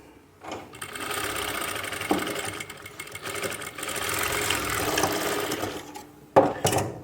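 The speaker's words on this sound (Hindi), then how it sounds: "और सिलाई को कंटिन्यू कर लेना है।" A sewing machine stitching palazzo fabric whirs steadily for several seconds with a rapid mechanical rhythm, close and moderately loud, ending with a few sharper knocks as the run finishes.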